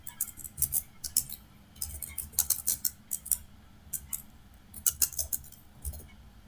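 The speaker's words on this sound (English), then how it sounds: "For example, I type this command" Rapid bursts of bright keyboard keystrokes clatter in uneven runs and pauses, close and fairly loud, as a command is typed into a NumPy coding notebook.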